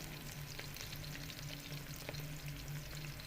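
Onions fry in a pan with a constant soft, dense sizzle and crackle that stays even and fairly quiet throughout, with no voices.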